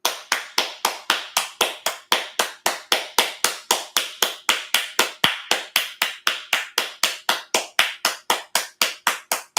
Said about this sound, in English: so let me applaud